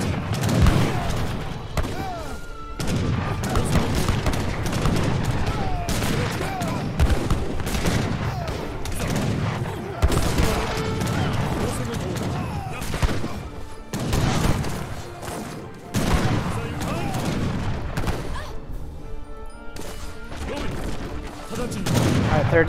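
Cannon fire in an Age of Empires 3 battle, rapid overlapping booms and crackling gunfire volleys in irregular bursts, loud and dense throughout, with a voice talking under the din.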